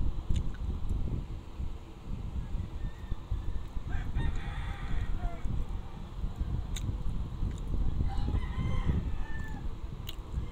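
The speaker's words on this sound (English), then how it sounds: "I'm sorry guys for the chicken that you can hear." A rooster crows repeatedly near a poultry farm while other chickens cluck in the background, with a steady wind-like outdoor rumble underneath the calls.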